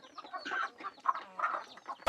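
Local-breed chickens at a poultry cooperative cluck and murmur in short, overlapping calls, fairly close, with a brief louder burst at the end.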